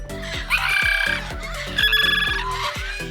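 Parrots squawk outdoors at a parrot garden, a run of loud, harsh, overlapping calls repeating in bursts close by, with no talking.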